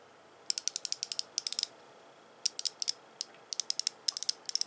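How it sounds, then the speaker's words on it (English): A Taiwanese quick-release ratchet with a friction thumb wheel clicks in several quick bursts of crisp, close pawl ticks separated by short pauses, with moderate back drag and no voices. "moderate back drag, typical of Taiwanese ratchets"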